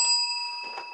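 A single bright bell ding is played as a sound effect, a clear ring with a ringing tone that fades quickly within a second.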